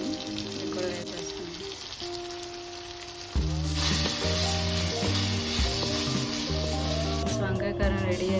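Garlic, chili powder and turmeric go into brinjal frying in a pan, giving steady oil sizzle that swells louder partway through, under background music.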